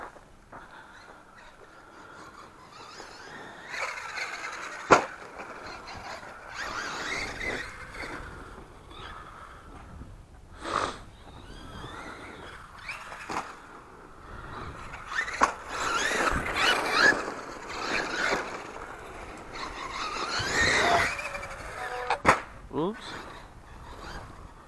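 An Axial Yeti XL RC truck is bashed around outdoors, its electric motor whining and rising in bursts, with sharp knocks and thumps from jumps and landings scattered throughout.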